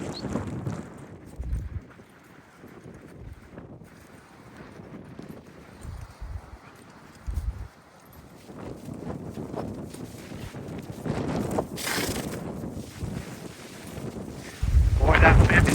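Horse hooves clip-clop in loose, uneven steps while riding out to gather cows on a windy fall day, with gusts of wind buffeting the microphone and a brief louder burst near the end.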